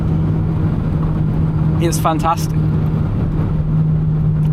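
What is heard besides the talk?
BMW Z3 car engine while driving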